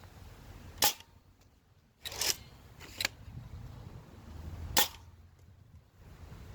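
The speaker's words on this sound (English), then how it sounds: "we're going to be shooting the usual plethora of ammunition, starting with 2 regular Mega." A Nerf Megaburn blaster fires regular Mega darts, giving several sharp, snappy shots spaced a second or two apart over a quiet room background.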